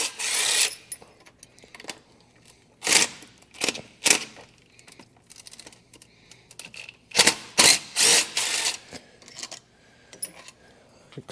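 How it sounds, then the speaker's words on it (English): A 15 mm socket and ratchet working two bolts out of a Dodge Ram 1500 5.7L Hemi engine bay: close bursts of fast ratcheting clicks, separated by quieter handling and clinks of metal. "Then you're going to take a 15 millimeter socket. I'm going to pull the two bolts out."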